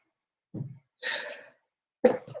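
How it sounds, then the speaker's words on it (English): A short intake of breath, then a sharp, breathy sneeze, followed a moment later by another abrupt burst like a second sneeze or cough. "what I'm going to do right now is sneeze"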